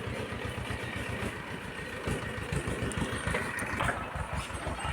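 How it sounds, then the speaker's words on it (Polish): Tractor engine running nearby on a rural path by a forest edge, a steady low mechanical chugging with a rapid pulsing beat that swells slightly in the middle. "Traktor jedzie."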